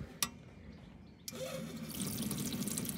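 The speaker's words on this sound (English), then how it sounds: "Water from a tap where it should be" A newly repaired kitchen tap runs into a sink, the water starting abruptly after a brief click and settling into a steady, fairly close rushing stream.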